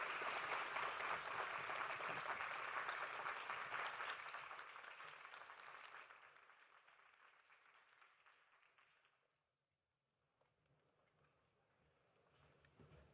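A crowd at a community center launch event applauds warmly, dense clapping that holds steady for several seconds, then thins and fades to near silence before a faint swell returns.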